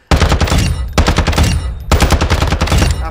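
Rapid automatic gunfire from a B&T APC556 in Modern Warfare II, three loud sustained bursts of fast, evenly spaced shots separated by brief gaps, close and dominant with no talk.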